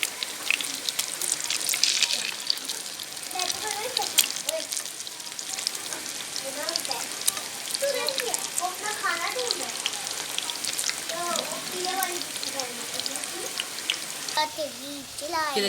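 Aloo kabab, a potato patty, sizzles and crackles steadily in an oil-filled pan on the stove, a continuous close frying hiss with occasional clinks as someone talks over the cooking.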